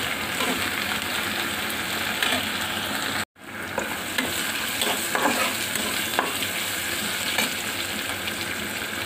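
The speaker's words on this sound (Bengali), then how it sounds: "এখন পেঁয়াজগুলো মেরে ফেলে ভেজে নেব" Onions and green chillies sizzle steadily in hot oil with salt, a dense continuous fry broken by one brief cut, with scraping stirs of a spatula in the pan and no talking.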